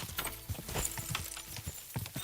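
Horse hooves galloping in a race in the video game Kingdom Come: Deliverance 2, a fast, steady run of clip-clop beats heard up close and continuing throughout with no speech.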